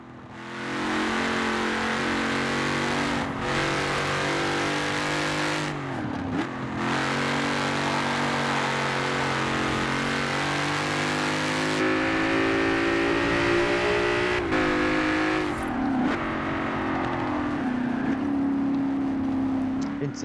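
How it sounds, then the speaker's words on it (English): A 2018 Ford Mustang's engine runs in Forza Horizon 4, a steady loud drone with rising and falling revs and a couple of brief dips, continuous for about twenty seconds with no voices. "It sounds like the 2018 Mustang actually."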